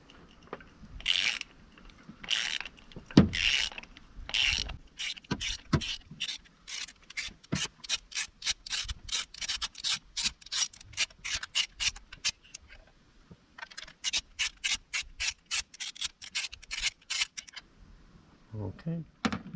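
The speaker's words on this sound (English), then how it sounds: "I'm just going to pop onto that spark plug and then simply undo it anti-clockwise." Long socket and extension working a spark plug loose on a Peugeot 107 engine, giving a run of sharp rapid ratchet clicks in bursts, fairly close and clear, with a short pause midway.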